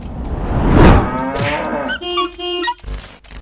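A cow moos loudly and close, a long drawn-out low call followed by a couple of shorter, tonal bellows.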